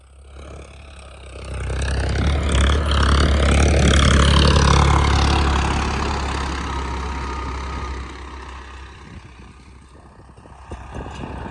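A Farmtrac 60 F17 diesel tractor engine runs close by, swelling to a loud, heavy drone, then easing back to a lower rumble, with no talk over it.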